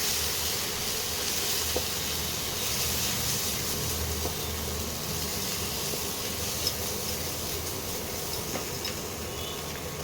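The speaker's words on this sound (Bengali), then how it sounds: "এবারে মশলাগুলোকে ভালো করে কষিয়ে নিতে হবে।" A spice paste with Kashmiri chili powder fries in a pan for a katla fish curry, giving off a steady, close, continuous sizzle and hiss with faint scraping.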